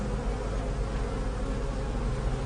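A dense, steady hum of many bees buzzing together, continuous and fairly close with no pauses.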